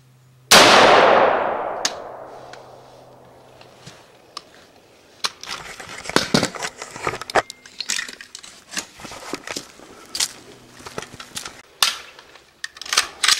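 An M4 rifle fires during a sighting-in session at a range: one loud, sharp report rings out near the start, then a string of quicker clicks and clattering knocks follows across the rest of the stretch.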